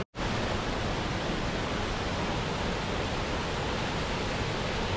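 Dog Creek Falls in the Columbia River Gorge pours down in steady cascades, a constant broadband rush of falling water, close and loud, with no voices.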